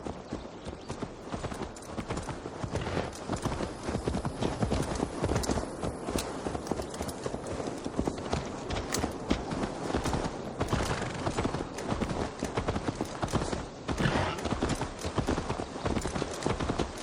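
Horse hooves clip-clop steadily through the whole stretch in Assassin's Creed Valhalla, a dense, continuous run of hoofbeats with no talk over it.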